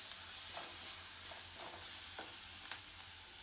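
Pasta with black pepper cooking in a pan, a quiet continuous sizzle with occasional soft scrapes and stirs of a utensil.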